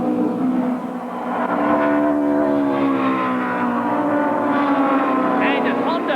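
1992 British Touring Car Championship cars, including Vauxhalls, a BMW, a Nissan and a Toyota, roar around the circuit together, a loud, steady blend of engines with a trackside commentator talking over it.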